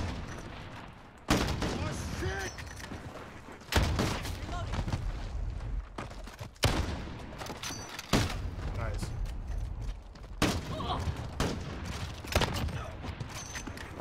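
Gunfire from a sniper team deathmatch video game: sharp shots crack out roughly every few seconds, each with a booming tail, while players talk and react over the action.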